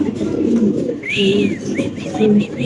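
A black male Indonesian Mundiyan pigeon coos in soft, low repeated phrases, loud and close, with a few higher chirps from other birds in the background.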